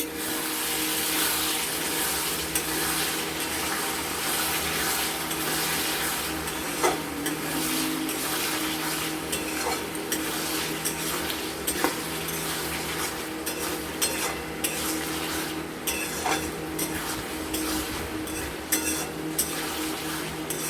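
Small fish sizzling in a pan on medium heat as they are stirred, a steady broadband fry with occasional light scrapes of a utensil, close and continuous throughout with no talking.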